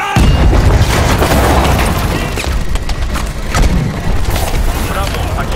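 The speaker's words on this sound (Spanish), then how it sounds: "¡Explosiones de presión!" Loud booming blasts and crashing debris from a futuristic military shooter game, Call of Duty Advanced Warfare, a dense chaotic barrage filling the whole stretch with shouting voices mixed in.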